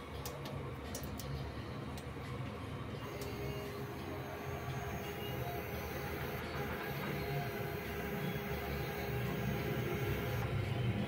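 A sublimation printer running a head clean cycle whirs faintly and steadily, with soft mechanical ticking and shifting under the hum. No talking is heard.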